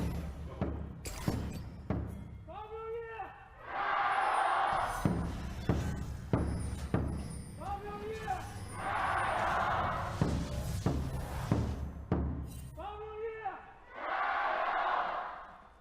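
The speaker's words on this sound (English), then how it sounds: "Time to hear from the crowd." A hometown crowd in Xi'an cheers at a League of Legends LPL esports match between EDG and Team WE, with loud swelling bursts of roaring cheers that recur three times, separated by stretches of booming announcer speech.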